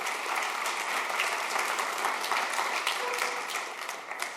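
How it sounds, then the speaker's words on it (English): Audience applause at a business partnership event, a dense, even wash of clapping from many hands at moderate distance, steady throughout and easing slightly at the close. "A warm round of applause"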